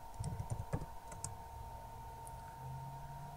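A few quick key taps on a computer keyboard early on, close but soft, typing an address into a browser, followed by a quiet room with a steady electronic hum.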